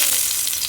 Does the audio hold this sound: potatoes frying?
yes